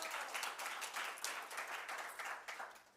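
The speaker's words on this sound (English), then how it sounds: "if you guys could give her a round of applause" A conference audience gives a round of applause for the coordinator, soft and somewhat distant. The clapping is dense and even, pulsing gently for a few seconds before easing off.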